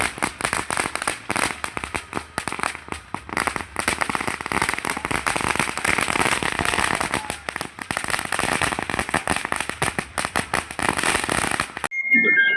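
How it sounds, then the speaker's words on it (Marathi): Firecrackers burst in a dense, continuous crackling barrage at an election victory celebration, loud and close for most of the stretch before cutting off abruptly near the end. "फटाक्यांची आतषबाजी व घोषणांनी परिसर दुमदुमून गेला"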